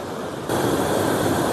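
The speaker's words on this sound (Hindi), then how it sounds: "गधेरा भी भाई अपने सामान्य रूप से काफ़ी ज़्यादा तेज़ चल रहा है, काफ़ी भयानक रूप इस गधेरे ने ले रखा है इस टाइम" A swollen mountain stream near Tharali by the flooding Pinder river rushes past, a loud, unbroken roar of fast water that grows stronger partway through, with no voices.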